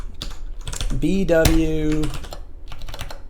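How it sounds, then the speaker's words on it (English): Fingers type on a computer keyboard as a steady patter of close clicks, under a voice that speaks briefly in the middle. "That's going to be a lot of typing."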